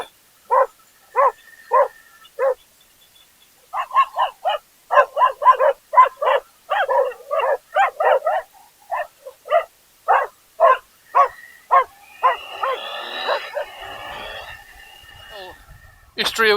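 Close, loud dog barking at the ruins of Histria, a long run of rapid, sharp barks in bursts with brief pauses, turning into rougher snarling yelps near the end.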